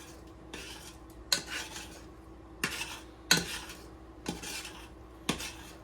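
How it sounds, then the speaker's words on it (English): Metal spoon stirring pasta in a pot for baked mac and cheese, sharp scraping clinks recurring at irregular intervals over a soft continuous scrape, close and fairly loud, no talking. "Let's get this pasta stirred up a little more."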